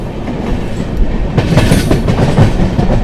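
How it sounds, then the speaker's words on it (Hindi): Steady rumble and rhythmic clatter of an express train up close, the Gorakhpur–Yesvantpur Express overtaking the Chennai Rajdhani Express, loud and continuous with no voices. "यही है गोरखपुर यशवंतपुर और आखिर में अब ओवरटेक इसका हो ही गया"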